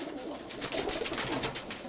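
Soft cooing from pigeons in a dovecote, with a steady murmur of several birds calling nearby and no voices.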